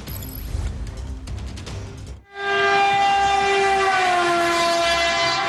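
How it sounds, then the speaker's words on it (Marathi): A Mumbai local train moves slowly around a dangerous curve, first with a rumbling, clattering run and then a loud, sustained horn blast up close that holds for several seconds. "मुंब्र्यातल्या दुर्घटना घडलेल्या धोकादायक वळणावर आज लोकलचा वेग मंदावलेला पाहायला मिळाला"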